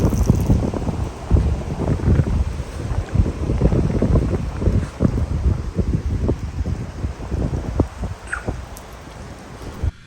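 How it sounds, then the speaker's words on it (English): A ferocious gale blows outside a Cub H16 hybrid caravan, roaring and buffeting loudly against the microphone in continuous gusts with deep rumbling, with no voices. "You walk outside and it's just, the wind is ferocious."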